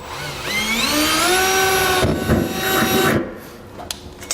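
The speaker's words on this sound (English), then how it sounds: "we're going to drill a small pilot hole" A power drill whirs up in pitch, bites into material with a grinding buzz for a few seconds while drilling a small pilot hole for an underbed gooseneck trailer hitch, then winds down.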